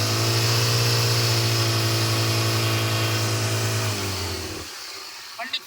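A 2007 Hyundai Santro Xing engine runs with a steady, loud idling drone for several seconds, then dies away near the end, leaving a faint clatter.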